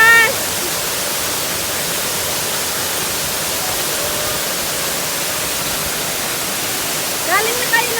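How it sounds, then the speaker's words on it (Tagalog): Powerful waterfall at Mirror Pool and Brides Pool roars as a loud, steady broadband rush throughout, with faint voices briefly rising above the noise near the start and end. "Ang lakas ng agos!"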